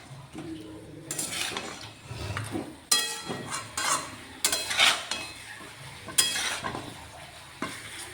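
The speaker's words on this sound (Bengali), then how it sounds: "এবারে ভেজে রাখা চিকেনটা দিয়ে দিচ্ছি।" Pre-fried chicken is stirred into a pan of butter and garlic. A metal utensil scrapes and clanks against the pan in loud bursts over a steady close sizzle.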